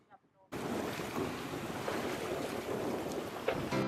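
A sailboat underway at sea after weighing anchor, with steady wind rush, water wash and hull noise filling the clip after a brief quiet start with faint voices.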